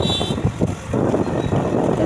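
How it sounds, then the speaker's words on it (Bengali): Motorbike riding along a road, a steady low engine rumble with wind buffeting the microphone, continuous and close. "বাইকে বাড়ি যাওয়া হচ্ছে"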